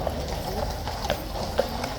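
Horse hooves clip-clop on a hard road in an even rhythm of about four distinct strikes over a couple of seconds, fairly close, over a low background murmur of a crowd.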